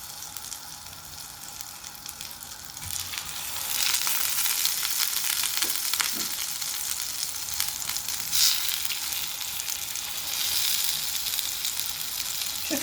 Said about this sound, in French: Voilà, j'ai mis ma poêle à chauffer. Je mets un petit peu de beurre.